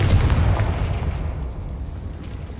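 A Bombarda blasting spell going off in Hogwarts Legacy, a loud deep boom that hits at once and rumbles away over about two seconds, with no voices.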